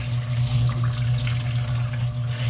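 Running water pours steadily from a tap as a giant trevally is rinsed, a continuous close splashing stream over a low constant hum.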